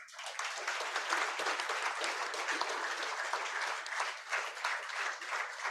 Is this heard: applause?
yes